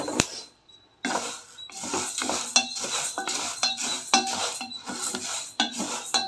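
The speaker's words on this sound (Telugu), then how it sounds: "ఇంకొంచెం కలర్ చేంజ్ అయ్యేదాకా వేయించుకుంటా" Ingredients for protein laddu are dry-roasted and stirred in a pan: repeated scraping and clinking of a spatula against metal in an irregular rhythm, close and fairly loud, after a brief pause near the start.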